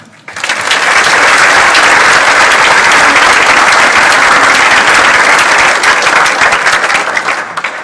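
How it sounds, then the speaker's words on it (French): Sustained, dense applause from a theatre-evening audience after a brief lead-in, steady and loud throughout nearly eight seconds with no clear voices. "Alors, je veux juste vous applaudir."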